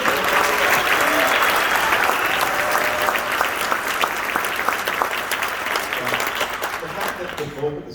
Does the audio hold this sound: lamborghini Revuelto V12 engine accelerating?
no